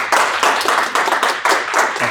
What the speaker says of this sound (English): Give Vitali an applause.